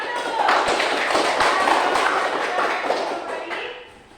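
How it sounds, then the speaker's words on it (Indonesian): Classroom applause for a student group after a coding algorithm lesson, many hands clapping in a dense, steady patter that lasts several seconds before fading at the end. "tepuk tangan dulu buat kelompok 1"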